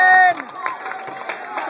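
Children and adults cheering and shouting encouragement at a Pinewood Derby car race, a lively crowd hubbub of overlapping voices after a brief loud whistle-like tone at the start.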